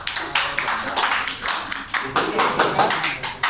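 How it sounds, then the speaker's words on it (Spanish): Classroom applause for a student, a short burst of irregular hand clapping from a group close by, with voices murmuring underneath. "Un aplauso para tu compañero, por favor."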